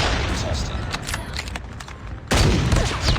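Dense gunfire crackles and booms in the mobile shooter Call of Duty Mobile during sniper-rifle play, a loud continuous barrage with a sharp surge near the end, mixed with in-game voice callouts.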